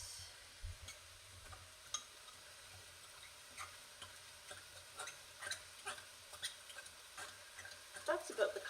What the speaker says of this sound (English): And then I mix it with a spoon and a fork.